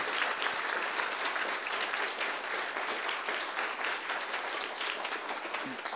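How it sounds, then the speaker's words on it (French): An audience applauds steadily for several seconds after an election debate on health, a dense, even wash of clapping heard from within the room. "On les applaudit."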